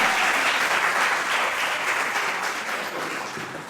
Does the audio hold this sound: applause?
yes